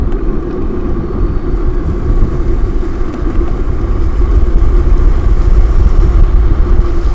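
A MAXXTER electric scooter pulls away from a standstill and gathers speed, a steady broadband roar of wind and road noise with a faint motor hum, close and constant throughout.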